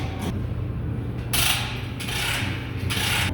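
Bolts being run in with a ratcheting tool during a hitch receiver install on a 2020 Ford F150, with the bumper pulled back; bursts of mechanical ratcheting and clicking repeat several times at close range, with no talking.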